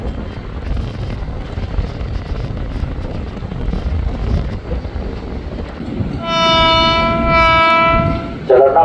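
A KRL commuter train rumbles through Manggarai station and sounds a loud, drawn-out horn near the end of the clip.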